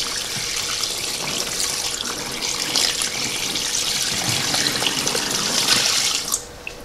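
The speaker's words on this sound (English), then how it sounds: "So we'll pour in some nice warm water." Warm water poured from a gallon pitcher into a small clothes washing machine, a steady splashing rush lasting several seconds before tapering off abruptly.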